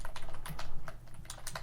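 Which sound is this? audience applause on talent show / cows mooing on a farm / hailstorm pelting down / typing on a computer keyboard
typing on a computer keyboard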